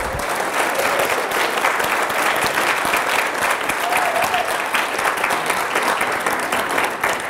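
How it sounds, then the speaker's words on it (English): A conference audience gives volunteers a round of applause, with dense, loud, continuous clapping from a large room that stays steady for several seconds. "give them a round of applause"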